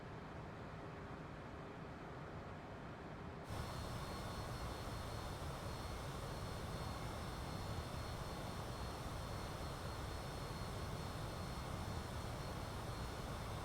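Private jet engines idle on the ground before takeoff in Microsoft Flight Simulator, a steady broadband whine and rumble that steps up in loudness a few seconds in and then holds, with no talking.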